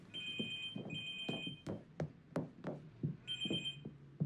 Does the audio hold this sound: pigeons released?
no